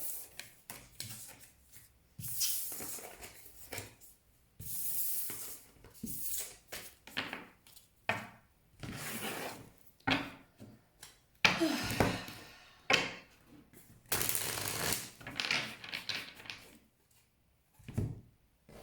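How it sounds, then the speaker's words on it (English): Tarot cards are shuffled in quiet, irregular bursts of rustling and riffling, with soft rubbing and shuffling sounds between them and near-silent gaps. "there's going to be a lot of shuffling, a lot of studying the cards"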